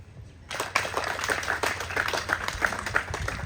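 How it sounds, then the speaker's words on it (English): A crowd at an outdoor military welcome ceremony claps together, starting abruptly after a moment of quiet and then keeping up a dense, steady patter of many hands. A few voices and cheers rise faintly under the clapping. "let's clap for God"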